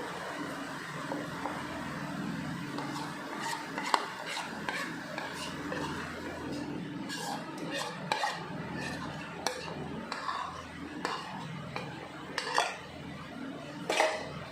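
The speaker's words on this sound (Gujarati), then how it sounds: "તે આપણે સારી રીતે હલાવી અને આ મોલ્ડમાં નાખી દઈશું" Semolina (suji) dhokla batter clinks against the bowl with a utensil as it is stirred and then poured into a mould: irregular light scraping and metallic taps, fairly close, over faint background noise.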